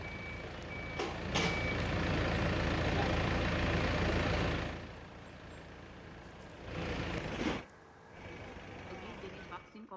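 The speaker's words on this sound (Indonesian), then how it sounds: "Vaksin AstraZeneca ini kemudian dibawa menggunakan 2 truk kontainer menuju Bio Farma Bandung untuk diuji lab di Bio Farma." Container trucks carrying AstraZeneca vaccine rumble along with a loud engine drone, a steady beeping tone and a hiss of air brakes, then quieter idling.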